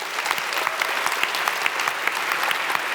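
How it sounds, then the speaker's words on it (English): Audience applause at a live literary debate event, a steady dense clatter of many hands clapping close by, sustained evenly throughout without pause. "And a round of applause for Intelligence Squared,"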